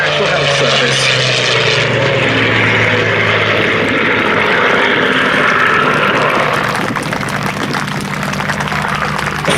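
A Spitfire fighter, the NHS-marked aircraft, flies at the Duxford Battle of Britain air show with its propeller engine droning loud and steady throughout, the roar rising and falling slightly as it passes, with a commentator talking over it.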